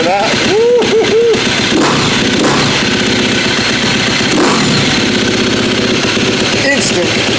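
Loud, close KTM 350 SXF motorcycle engine idling and revving after sitting unridden, with sharp pops breaking through a rough, steady drone. A voice whoops briefly near the start.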